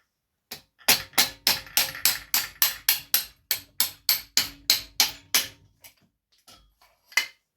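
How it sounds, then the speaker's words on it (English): A piston pin is driven out of an engine piston during an engine rebuild with about fifteen sharp, evenly spaced hammer blows, close and loud, followed by a short pause and one last strike. "then you can hit the piston pin, carefully out"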